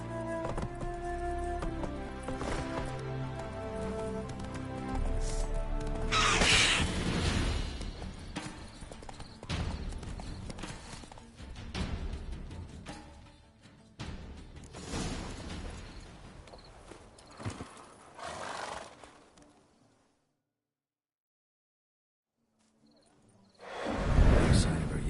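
Roach, the horse in The Witcher 3, gallops in a fast, continuous clip-clop under game music and effects; the hoofbeats fade out near the end, then a short loud burst follows.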